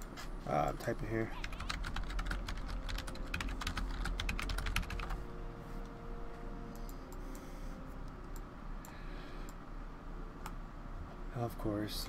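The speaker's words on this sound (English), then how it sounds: "I'm typing here." Rapid, continuous clicking of a computer keyboard being typed on fills the first half, then thins to sparse keystrokes under soft background game sounds.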